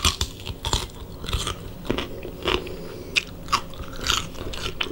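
Crisp bites into raw fresh cucumber, followed by wet, crunchy chewing, close and clear with irregular snaps and no talking.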